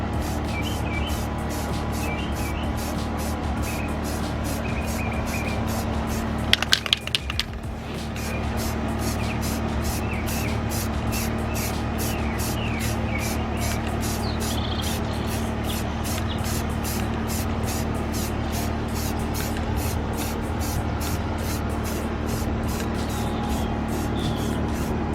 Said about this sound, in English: Hit it from a different angle, opposite direction now. That way you get a nice even coat